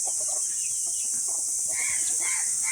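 Free-range village chickens, including a naked-neck hen, cluck softly and intermittently, a few brief calls scattered over a steady high hiss, with no talking.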